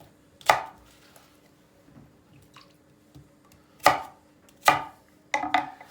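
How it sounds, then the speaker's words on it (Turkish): A few sharp knife chops coarsely cutting onions on a board, spaced irregularly with quiet gaps, the last ones coming in a quick cluster, close and crisp. "Yani gelişi güzel doğrayın soğanları"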